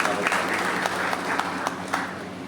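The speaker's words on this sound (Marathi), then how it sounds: "यांच्यासाठी जोरदार टाळ्या वाजवा" An audience at a political gathering in Sindhudurg applauds in a dense, continuous patter of clapping with brief louder peaks. It sounds moderately close and carries on throughout.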